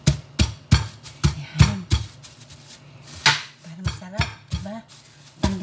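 Ginger is pounded for a coconut-milk tilapia recipe. The pestle makes a series of firm, irregular thuds close by, with brief pauses between strikes and faint voices in the background.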